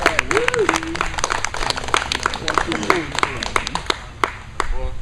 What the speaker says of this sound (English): Let's give Congressman Graves a big round of applause